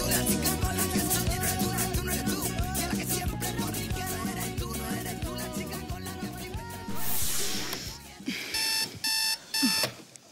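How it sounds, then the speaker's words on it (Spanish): A beeping alarm clock sounds in short, loud, evenly spaced bursts, rising suddenly after background music fades out. "¿Ha sonado el despertador o lo he soñado yo?"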